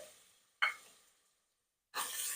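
Peanuts, coconut, potatoes and carrots stir-fried in a pan for Maharashtrian masale bhat: faint, soft sizzling in two short bursts with a quiet gap between, no voices.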